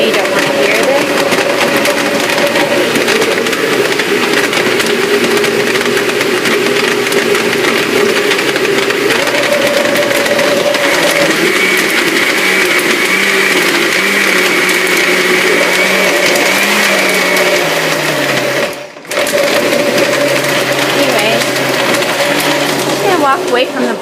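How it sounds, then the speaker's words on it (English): A kitchen blender runs continuously, whirring loud and steady while blending a green smoothie of fresh vegetables, its pitch shifting as the load changes, with a brief cutout near the end before it resumes; voices talk faintly beneath it. "Walk away from the blender for a bit over here"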